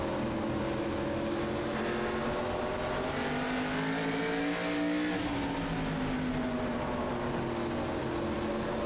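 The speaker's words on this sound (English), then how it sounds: "You hear the sound of the engine of Matt Dula." An ARCA stock car engine roars steadily throughout a race, its pitch rising and falling as it revs through gears, loud and close with no talking.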